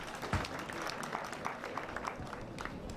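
A school audience at a student brain challenge event claps for participants, a faint but continuous spread of applause with a few sharper individual claps, distant and steady.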